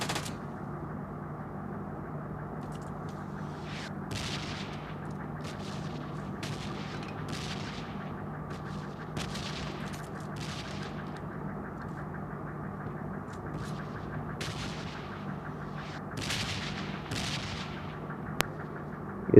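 Gunfire in the mobile shooter game PUBG Mobile Lite: a run of sharp, scattered shots cracks out over a constant low background hum, with bursts spread irregularly across the stretch.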